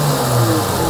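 A Dodge Challenger engine holds a brief, steady, loud rumble up close, a continuous droning note without any break.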